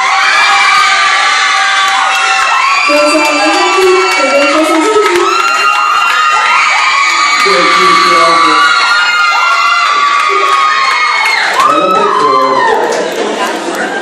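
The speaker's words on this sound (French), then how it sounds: "c'est les applaudissements" A crowd at the Miss Prestige Réunion 2018 beauty pageant cheers loudly throughout, with high-pitched shouts, whoops and excited voices layered over a constant roar.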